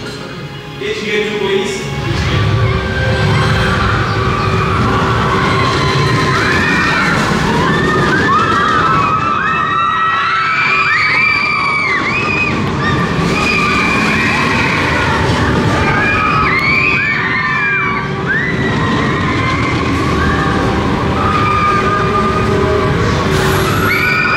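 A Mack Rides Capital Bullet Train roller coaster at Motiongate Dubai thunders loud and close along its track, with a continuous rumble and roar. Riders scream and shout throughout.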